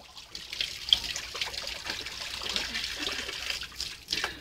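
Water poured and splashing outdoors, a faint continuous trickle with small uneven splashes, fairly quiet and without talk.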